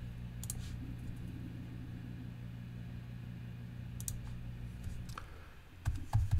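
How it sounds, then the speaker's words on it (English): Someone types on a computer keyboard, with sparse scattered key clicks over a steady low background hum, and no one speaking. "Now I'm gonna type something."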